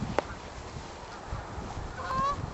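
Geese honking outdoors, with a short sharp call near the start and a drawn-out honk toward the end over a steady background hiss.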